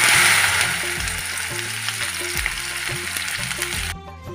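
Okra going into hot oil with cumin seeds sets off a loud, dense sizzle and crackle that softens slightly and runs on steadily beneath quiet background music, cutting off near the end.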